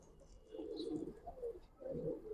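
A Giribaz pigeon cooing, low throaty rolling coos in two phrases, close and clear against a quiet background.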